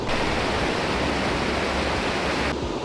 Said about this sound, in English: Got a cool little waterfall in the background.